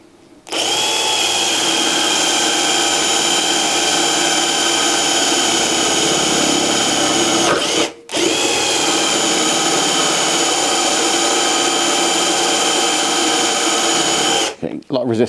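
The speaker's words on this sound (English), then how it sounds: "when you get good stringy swarf like that is when you've got the perfect drill pressure" A power drill whines steadily as it bores into the metal of a Royal Enfield Meteor or Classic motorcycle's lock, throwing long stringy swarf, loud and close, with a brief pause midway before the drilling resumes.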